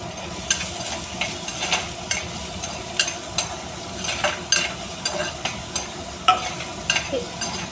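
Onions with green chillies and salt sizzle in hot oil, a steady frying hiss broken by frequent close clicks and scrapes of a stirring spoon against the pan, with no talk.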